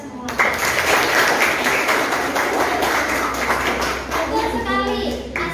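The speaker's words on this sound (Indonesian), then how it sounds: "Tepuk tangan untuk kita semua." Classroom group applauding together, dense clapping lasting several seconds with children's voices mixed in and a voice speaking toward the end.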